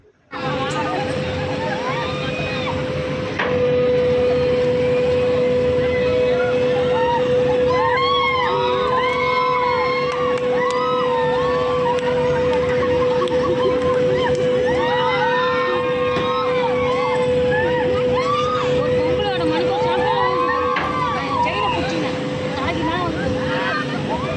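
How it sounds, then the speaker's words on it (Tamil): Riders scream and shout on an amusement park ride at a fairground exhibition, a loud crowd of rising and falling cries layered over a steady mechanical tone and constant background babble. "நாங்கள் அதில் கத்துற சவுண்டை மட்டும் கேளுங்களேன்."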